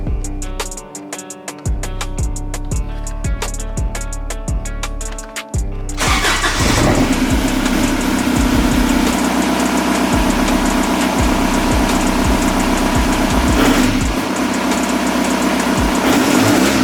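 A Toyota Tacoma truck engine cranks and fires up after some quieter mechanical clicking, then settles into a steady, loud idle that runs close by with no one talking.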